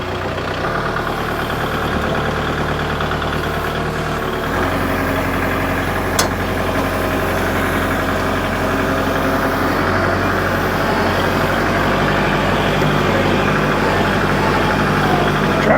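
A tractor engine idles while warming up after cooling off, a loud, close, steady low rumble with a fine rhythmic chug that persists for the whole stretch, pitch shifting slightly partway through.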